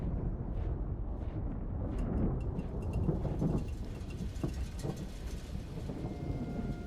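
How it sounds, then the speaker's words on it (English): Steady heavy rain pattering on metal armor during a rainy night battle in The Lord of the Rings: The Two Towers, a dense continuous wash of drops with low rumbling under it, loud and unbroken throughout. "the sound of the rain dropping on the armor"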